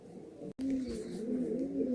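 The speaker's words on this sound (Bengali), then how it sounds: "এইসব পায়রা কিন্তু দাদা অন্ধ্রপ্রদেশ থেকে নিয়ে এসেছিলেন" Andhra pigeons cooing up close, a soft low warbling coo that runs on for a couple of seconds, broken by one brief gap near the start.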